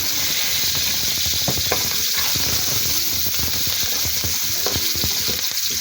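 Onion sautéing in a pan for adobong kangkong gives a steady, loud sizzle throughout, broken by frequent scraping and clacking from stirring. No one speaks.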